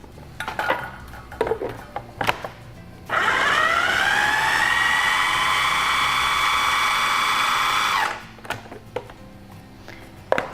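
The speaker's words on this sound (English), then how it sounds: "take our mushrooms and pop those into our food processor and blend until smooth" Food processor blending mushrooms to a smooth, fine consistency: a loud, steady motor whine that starts abruptly, holds for about five seconds and cuts off, with brief kitchen clatter before and after.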